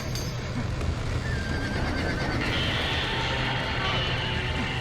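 Horses neigh and whinny in the Red Dead Redemption video game, loud and close amid hoofbeats and a dense, busy background of commotion.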